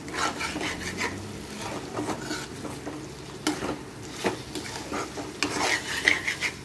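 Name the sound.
stirring mutton curry in a pot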